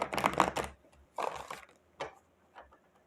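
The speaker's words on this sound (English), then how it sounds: "Let's do one more shuffle." Oracle cards being shuffled by hand in a quiet room, a dense papery riffling burst followed by a few shorter, softer shuffles and flicks, with no talking.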